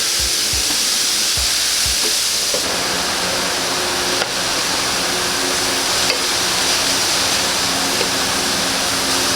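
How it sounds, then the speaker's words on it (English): Marinated al pastor meat fries on a hot plancha with onions and pineapple, giving a loud, dense, continuous sizzle close up, after a few low knocks at the start. "now I'm going to cook it on the plancha with the onions and the pineapples"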